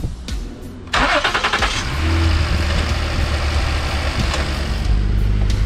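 A Ford Explorer Police Utility cranks briefly and then catches, its engine settling into a loud, steady idle close by, with no voices.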